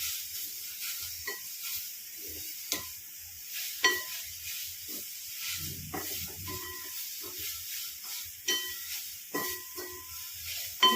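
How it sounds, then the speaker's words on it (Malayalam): Beans are stirred into a cooking pan, giving a steady soft sizzle with scattered scrapes and clicks of the spoon against the pan, quiet and close with no talking. "ഇനി ഞാൻ പയറും കൂടെ ഇടാം ഇതൊന്ന് ഇളക്കിയെടുക്കാം നന്നായിട്ട്"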